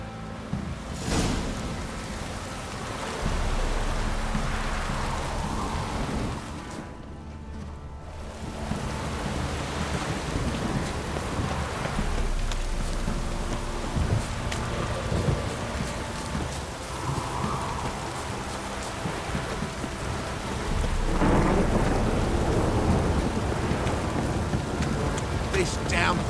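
Steady heavy rain pours through a stormy scene in The Witcher 3 game, with deep rolling thunder swelling in and out beneath it over nearly half a minute.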